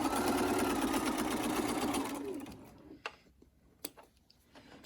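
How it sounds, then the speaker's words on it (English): A sewing machine runs steadily for about two seconds while stitching a zippered project bag, then stops, leaving a quiet stretch broken by a few sharp clicks and taps. "And so I'll just sew off of there."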